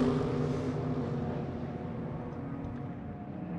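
A Porsche 911 GT Le Mans race car pulls out of the pit lane after refuelling at the 2018 Mobil 1 SportsCar Grand Prix, its engine roaring loudly at first, then fading as it moves away.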